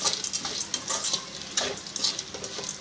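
A spoon scrapes and clinks rapidly through carrot fry being tossed with crunchy kara boondi in a pan, quick rhythmic stirring over a light sizzle.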